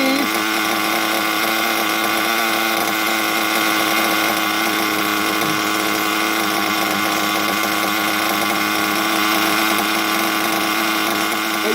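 A nitro engine idles during break-in, heavily oiled and smoking, holding a loud, steady high-pitched buzz close by for the whole stretch, with no talking.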